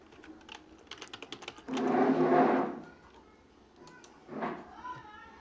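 Code is typed on a computer keyboard during a Pygame programming session: scattered, quiet key clicks in irregular bursts, with a brief louder murmur of sound in the middle.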